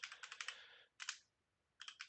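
A computer keyboard being typed on while entering a network switch command: quick bursts of light, crisp key clicks, a rapid run of strokes, a short pause, then a few more keys, close and quiet.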